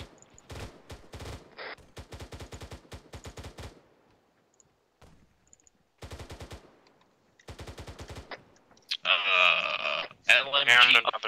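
Enemy gunfire in a multiplayer shooter game, rapid automatic bursts repeating in clipped volleys with pauses between them, close and fairly loud, followed by louder distorted bursts near the end.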